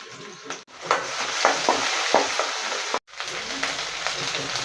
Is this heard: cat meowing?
no